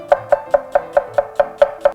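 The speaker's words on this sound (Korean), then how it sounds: "얘는 이제 아무래도 국물에다가 면을 같이 건져 먹는 거니까 먹기 편하게 채 썰어 줄 겁니다." A kitchen knife chops vegetables into thin strips on a cutting board for jjamppong, with nine crisp, evenly spaced cuts in a steady rhythm, close and clear.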